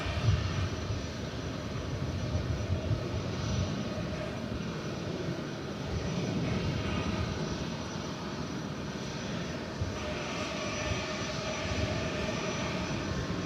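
A jet airplane at DFW airport: a steady, broad roar of engine noise holding at a constant level throughout, heard from a distance with no voices.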